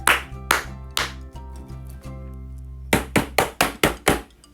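Sharp, percussive hand claps in a bedtime story read aloud: a few spaced single claps ringing over a sustained musical tone, then a quick run of six evenly spaced claps near the end, close and loud.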